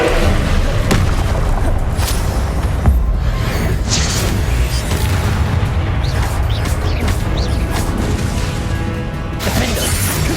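Incendio fire spells blast in Hogwarts Legacy on PS5, a loud, dense run of booming bursts and shattering crashes over constant combat noise, with no talking.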